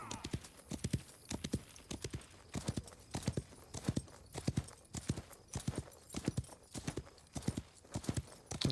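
Horse hooves in the Wild West Online game clip-clop in a steady galloping rhythm of sharp hits, fairly quiet but clear, with no talk over them.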